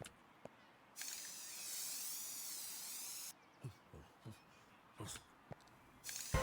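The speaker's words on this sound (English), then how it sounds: "I reckon we should eliminate all those nasty bugs with a hefty dose of the anti-bug spray" Anti-bug spray hisses from a can onto bugs in the game The Tenants, one long spray burst near the start and another brief one at the end, with small clicks and taps in between.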